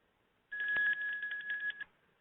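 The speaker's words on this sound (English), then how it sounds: "it's a little bell ringing." A small bell rings during a classical conditioning demonstration, producing a bright, steady ringing tone that lasts just over a second and stands out alone against silence.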